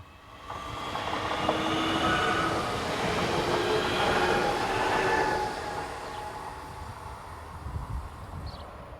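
Electric train 440-326 pulls out of Emskirchen station bound for Nuremberg, a steady rolling rumble with rising motor whine that holds throughout and eases near the end.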